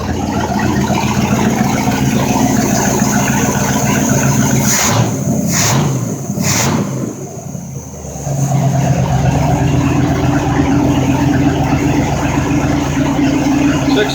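A Mercruiser 5.7 standard rotation marine engine idles in neutral with a loud, steady, close rumble that dips briefly in the middle before settling back into an even idle.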